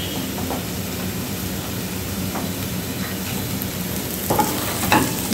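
Onions frying with turmeric and red chili in a pan for a dhaba-style paneer masala, a steady close sizzle with scraping stirs that grow louder toward the end, no talk.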